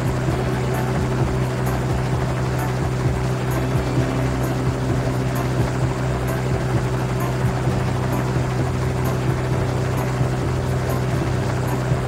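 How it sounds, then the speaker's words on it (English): In a mobile truck video game, a twin-rotor cargo helicopter gives off a steady droning hum with faint regular rotor pulses, constant and close, with no speech. "Cargo helicopters used for carrying heavy loads have two blades that rotate in opposite directions."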